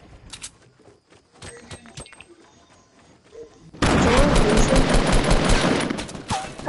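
Video game gunfire: a few scattered shots ring out, then a dense, loud automatic burst erupts and rattles on continuously to the end.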